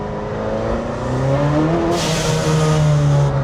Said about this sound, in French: Je fais une mini-accel jusqu'à 60. On est en 3e vitesse.